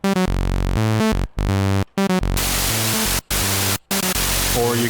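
A Behringer K-2 semi-modular synthesizer, an MS-20 clone, plays loud bursts of noise through its external signal processor, broken by short silences and mixed with buzzy pitched tones. No voice is heard.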